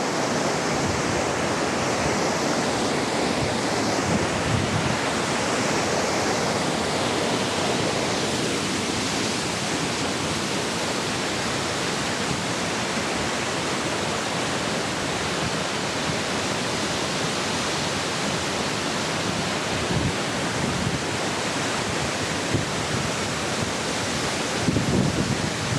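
Waterfall in India, its rushing water a loud, steady roar that fills the scene close by for the whole stretch, dense and unbroken, with only faint shifts in texture.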